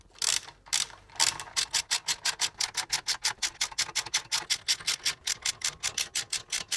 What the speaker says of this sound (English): Then we're going to take our 14mm socket on the socket wrench and slowly move around in a crisscross pattern, snugging them down.